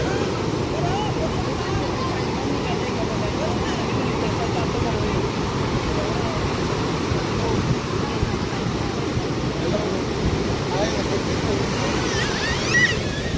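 Sea waves surge and pull back at Ganapatipule beach, a constant loud wash of surf with wind buffeting the microphone throughout.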